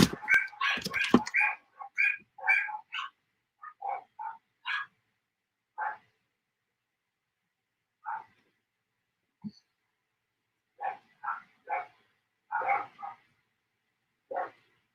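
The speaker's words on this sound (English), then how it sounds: "That sounds like a puppy." A puppy yips and whimpers in short high bursts, a rapid cluster at first and then scattered single cries with long pauses, faint and somewhat distant.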